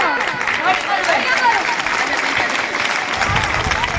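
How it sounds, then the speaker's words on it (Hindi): Loud applause from a crowd at a school farewell-party comedy drama runs throughout, with voices calling and talking over the clapping. "तालियां"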